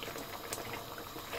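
Potato and cauliflower curry simmering in water in a pot, a soft, steady bubbling and hissing heard close up and alone, fairly quiet.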